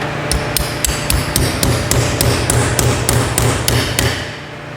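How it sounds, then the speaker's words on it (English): A steady series of sharp metallic hammer taps, about a dozen evenly spaced, seating a tight bearing on a Honda 250R, ringing close over a low mechanical hum. "now I like to get a little hammer"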